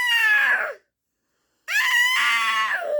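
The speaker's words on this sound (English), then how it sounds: "You're just going to have to hear my daughter scream" A young child screams loudly twice, a long high shriek, a brief silence, then another sustained piercing scream.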